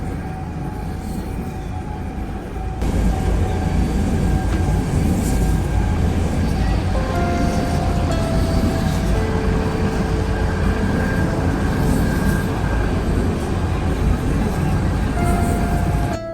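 A large wind turbine, heard from close underneath, gives a loud, steady broadband roar like a passing plane, swelling after a couple of seconds and holding on, with faint tonal hums and no talking.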